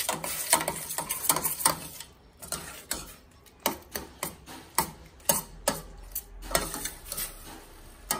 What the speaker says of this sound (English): I'm now going to add the dried spices. And I'm going to stir them up.